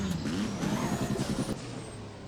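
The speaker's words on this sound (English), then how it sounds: "Dude, this car sounds amazing." A car engine in the Roblox game Driving Empire revs and rumbles with a pulsing throaty tone, rising briefly then settling into a steady drone, loud and continuous with no talk over it.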